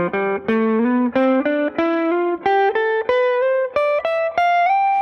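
A distorted electric guitar climbs a major scale with alternate picking, each note plucked distinctly in a steady rising sequence with slides between positions, loud and close with no talking.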